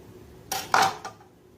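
A knife cuts through thin samosa pastry sheets on a board, giving a few short, close scraping cuts with a sharper tap in the middle, no talking.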